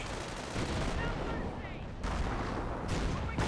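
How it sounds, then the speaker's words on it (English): Artillery barrage in the Company of Heroes 1 strategy game, heard as a dense, continuous roar of explosions and gunfire with loud bursts at intervals, filling the whole stretch with no quiet gaps. "Here comes the next working barrage."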